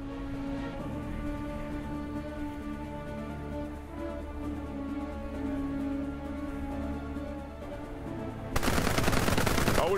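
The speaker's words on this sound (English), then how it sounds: "They are shooting at me!" Gunfire rattles in the Global Conflagration strategy game amid a steady hum of in-game engines and ambience, with a louder burst of shooting breaking in near the end.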